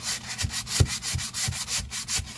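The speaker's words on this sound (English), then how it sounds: "Let me sand it now." Rhythmic back-and-forth sanding of wooden kitchen beadboard, about a dozen close, scratchy strokes in a steady pace with no talking.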